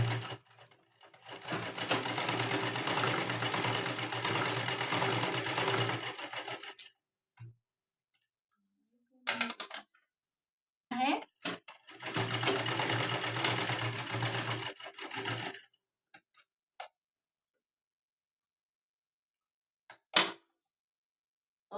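A sewing machine stitching a princess-cut blouse, two long steady runs of rapid mechanical chatter separated by quiet pauses and a few small clicks, with no talk.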